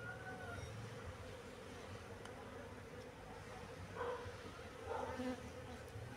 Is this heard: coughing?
no